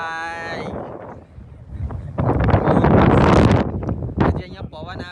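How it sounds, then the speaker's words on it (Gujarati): Wind sweeps across a hilltop viewpoint in Matheran, buffeting the microphone with a loud, rough rumble that swells in the middle and eases off, while people talk nearby. "જે અહીંયા પવન આવે છે"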